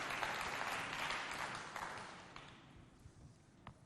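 An audience at a neighborhood youth event in Walia gives a quiet, fairly distant round of applause for a performer, the clapping tapering off gradually with a last isolated clap.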